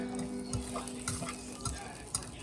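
Penne pasta tossed with asparagus, tomato and cheese, soft close stirring and scraping with a faint underlying sizzle and a couple of sharper clicks of a utensil.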